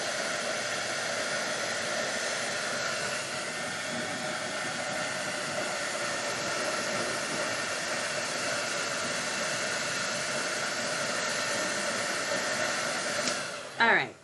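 A hair dryer blows a steady, even whoosh to dry paint on a painting, running continuously at moderate level before a brief clatter as it is switched off at the end.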